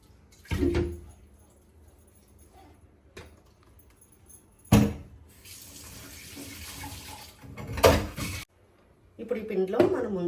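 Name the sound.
water poured into mixer jar to rinse it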